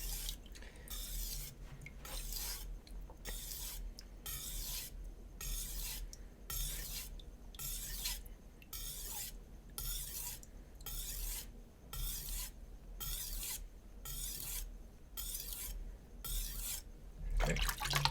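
A Shun chef knife is drawn across a wet whetstone in steady, evenly spaced rasping strokes, about two each second. The grinding is close and soft and continues alone.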